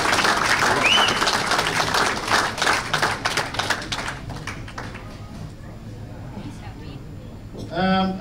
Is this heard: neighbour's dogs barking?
no